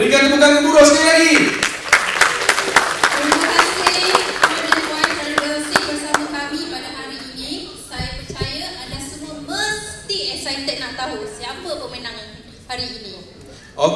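Festival crowd applause at a GPU OE Day 2019 event, clapping that fades after a few seconds as music and a voice take over with occasional claps underneath.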